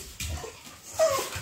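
A dog whimpers briefly and softly, giving a short, thin whine over quiet indoor background noise.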